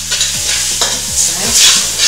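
Pureed garlic and about two tablespoons of curry powder hit hot oil and are stirred quickly, a loud close sizzle broken by rapid scraping strokes of a utensil in the pan.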